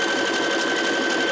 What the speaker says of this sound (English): Now this is a fairly stable twill that I'm sewing on.